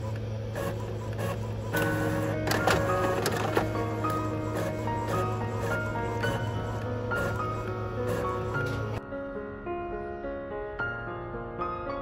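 A malfunctioning printer that has stopped printing whirs and hums with mechanical clicks and knocks, its steady drone cutting off abruptly near the end, leaving a quieter tone.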